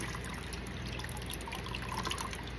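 Water trickling and dribbling out of a thick sheet of pulp pressed between screens, a close, soft, continuous wet trickle with faint drips.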